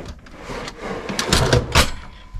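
A galley drawer on a Sealine S34 motor boat slides open or shut with a soft rolling rumble, then two sharp wooden knocks as it stops, heard close with no talking.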